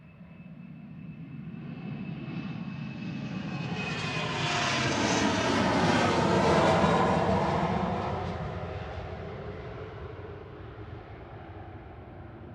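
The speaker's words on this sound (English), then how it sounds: "Finnair in the One World livery heading back to Helsinki, OHLKN. It's a 14-year-old Embraer 190LR" A 14-year-old Finnair Embraer 190LR jet airliner in Oneworld livery passes at Manchester Airport, its engine roar swelling steadily to a broad peak midway, then fading again, with a faint whine early on and no voices.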